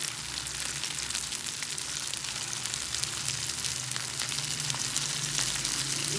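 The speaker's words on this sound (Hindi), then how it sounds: "अभी हम इनको करेंगे फ्राई।" Spicy chicken kofta made with egg fry in oil in a pan, giving a dense, steady, close sizzle and crackle that continues throughout with no talking.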